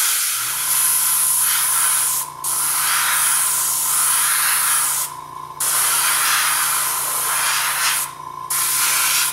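An airbrush sprays luster dust color onto an edible cake crest, giving a steady close hiss of air with a faint low mechanical hum. It cuts out briefly three times, with short gaps between long bursts.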